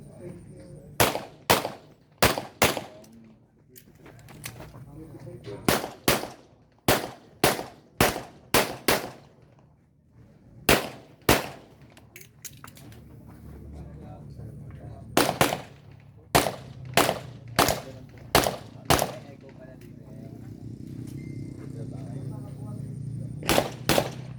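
Gunfire at a sanctioned shooting match on Mount Arayat: loud, sharp reports come in quick bursts of several shots, with short pauses between strings, heard outdoors close to the shooter.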